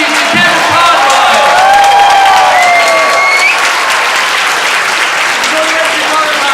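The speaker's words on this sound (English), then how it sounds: "please give a warm round of applause and a thank you to Kevin Conroy" Convention crowd at San Francisco Comic Con applauding Kevin Conroy, the voice of Batman, after a Q&A: dense sustained clapping with a few whoops and cheers, loud and steady, easing slightly toward the end.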